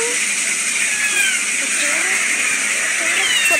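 A cat meows in drawn-out, wavering cries beneath a dense, bright hiss of background noise.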